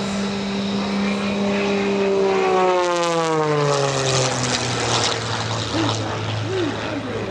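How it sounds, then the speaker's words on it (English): Scott Francis's 355 hp all-carbon-fiber MX aerobatic airplane roars past at an airshow, its propeller drone sweeping steeply down in pitch as it passes close, loud, with a faint announcer's voice under it. "355 horsepower up front of his all-carbon fiber airplane."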